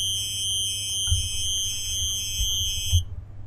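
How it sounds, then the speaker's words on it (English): Wobbly dubstep formant synth from LFO modulation pulses in a steady throbbing low tone under high sustained whistling partials, ending abruptly. "Now you're starting to hear this kind of wobbly noise"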